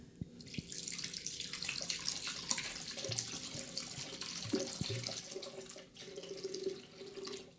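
Hemp milk poured into a Vitamix blender, a continuous close splashing pour lasting several seconds with a few small knocks and drips.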